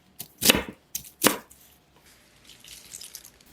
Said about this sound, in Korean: 속 잎들도 모아서 썰어주시고요.